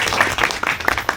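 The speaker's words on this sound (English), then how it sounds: "Can we have a round of applause for?" An audience at a book fair breaks into applause, with uneven, fairly close claps spread through the short burst and no talking over them.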